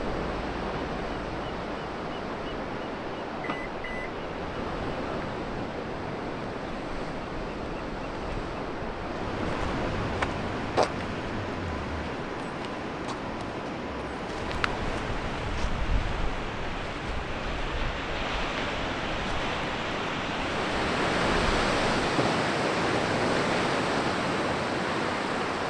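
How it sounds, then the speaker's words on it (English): Ocean waves break along the California coast in a continuous broadband wash that swells and recedes, steady and fairly close, with occasional faint crackles and no voices. "There is nothing like falling asleep by the ocean to the rhythm of the crashing waves."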